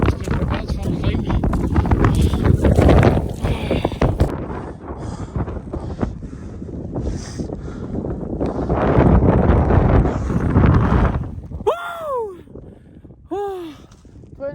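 Strong gusting wind roars and buffets the microphone during a mountain climb in a snowstorm, loud and close, with short whistling calls near the end.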